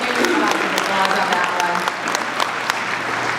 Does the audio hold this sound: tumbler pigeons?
no